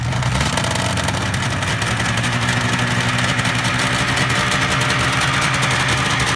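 A 499cc dual-crank V4 two-stroke motorcycle engine runs steadily, a loud, close, buzzy rasp with a constant rough drone and no revving for about six seconds.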